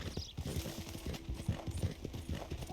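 Footsteps thud up or down indoor stairs in a steady clip-clop rhythm, fairly close and even, with a faint hum in the background.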